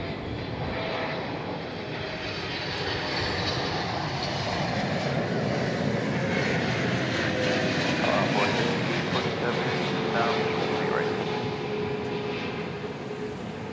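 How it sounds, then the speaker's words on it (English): Boeing 777-300 airliner on approach to land at Dallas Fort Worth airport, a steady, loud engine roar that swells slightly and holds throughout, with faint background voices. "777-300 coming in on this side of the airport."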